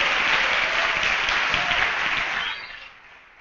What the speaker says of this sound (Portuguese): Quem recebe essa palavra aí, ó, aplauda Jesus.